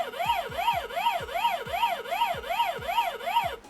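A Pac-Man lamp plays game sound effects: a rapid, repeating electronic warble that rises and falls over and over, with steady blips underneath, loud and continuous throughout.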